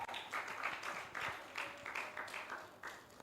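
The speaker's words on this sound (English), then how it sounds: "Clap for me, I tried." At a high-school educational seminar, an audience gives faint, scattered clapping in uneven bursts, fairly distant and low in level throughout.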